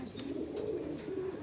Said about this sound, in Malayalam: ഇത് എൻ്റെ പ്രാവുകൾക്ക് ഉള്ള ഒരു പ്ലേ ഗ്രൗണ്ട് എന്ന് പറയാം